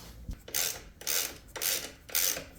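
Allen head screws being turned out of a KLR650 motorcycle brake master cylinder, heard as four short rasping, ratcheting strokes in an even rhythm, close and fairly quiet with no talk.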